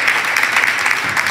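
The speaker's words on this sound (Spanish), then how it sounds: "Yo pido un fuerte aplauso para nuestra invitada" An audience claps steadily for a guest speaker at a Spanish-language book event, a dense, even burst of applause filling the whole short moment with no speech over it.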